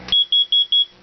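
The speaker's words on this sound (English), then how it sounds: "Test. Okay, carbon monoxide alarm." A carbon monoxide alarm on an off-grid homestead sounds during a test: four loud, shrill, evenly spaced electronic beeps in quick succession, close and alone.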